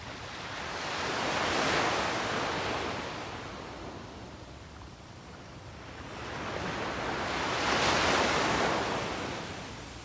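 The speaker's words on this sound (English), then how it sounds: "Here, I'm going to show you the beach." Ocean waves wash onto a beach on a quiet morning, two broad swells of rushing surf rising and fading, steady and close with a soft wind-like hiss.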